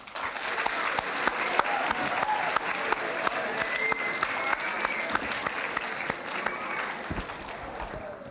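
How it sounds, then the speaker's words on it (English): Symposium audience applauding in a large room: a dense, even wash of clapping that continues for about eight seconds, with a sustained cheer or whistle audible mid-way before it tapers off. "I think that deserves a round of applause."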